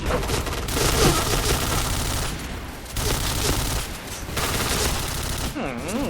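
Rapid automatic gunfire fills the Point Blank shooter game in dense, loud bursts with short pauses between them. A player's voice is faintly mixed in.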